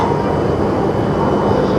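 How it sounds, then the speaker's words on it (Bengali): A Tohoku Shinkansen bullet train pulls away, heard as a loud, steady, broadband rumble that stays constant through the short stretch. "তহুকু শিনকানসেনে উঠছি এবং শিনকানসেন ছাড়ছে"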